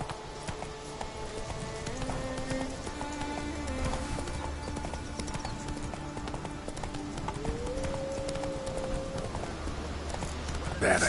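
Horse galloping in The Witcher 3 video game, rapid clip-clop hoofbeats running steadily under game music and ambient sound.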